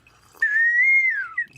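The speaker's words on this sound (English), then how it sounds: "We're actually only doing answers in whistle form only" A person whistles a single clear sustained note that glides slightly up, holds, then bends down, ending with a short higher chirp, close and loud in a quiet room.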